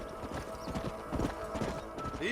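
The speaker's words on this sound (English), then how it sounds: "And now we are herding some horses." Hooves clip-clop in a quick, steady gallop as horses are herded in Red Dead Redemption, with an occasional whinny, moderately loud and close throughout the short stretch.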